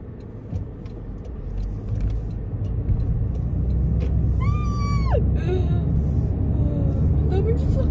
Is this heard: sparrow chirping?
no